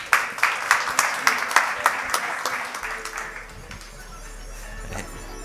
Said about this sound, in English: An applause, please, for Scott Rominger.